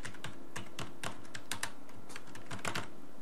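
Bursts of quick clicking keystrokes as a payee name is typed on a computer keyboard, irregular taps in clusters with short pauses, close and fairly quiet, no voices.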